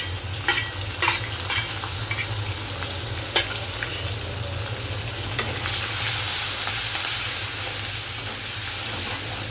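Shrimp frying in hot oil with salt and turmeric, a steady hissing sizzle broken by occasional sharp crackles and stirring scrapes, close and even.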